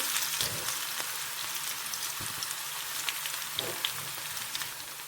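Steady crackling sizzle of chopped onions frying in hot oil, with a few soft pops and stirs, continuous throughout.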